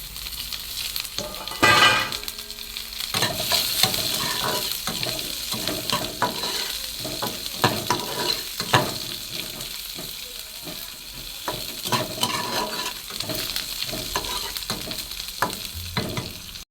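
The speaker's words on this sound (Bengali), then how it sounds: "পেঁয়াজটা লাল করে ভাজা হয়ে গেছে" Onions sizzle in a hot pan with a steady crackling hiss, punctuated by repeated scraping and stirring knocks of a utensil.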